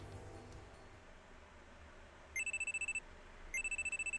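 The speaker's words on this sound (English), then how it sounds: "I'm sleeping on the couch when a loud alarm rings in my ears" A phone alarm in a video game rings twice, each burst a rapid run of bright electronic beeps separated by a short gap, clear over a faint background hum.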